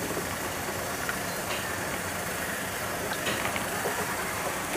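A Maruti Suzuki Wagon R engine runs at a steady idle with one wheel raised off the ground while a speedometer fault is checked, giving a constant dense mechanical drone with no talking.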